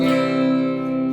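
A guitar chord is strummed and rings out, its strings sustaining evenly and close up.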